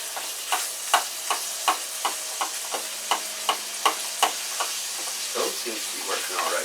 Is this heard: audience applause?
no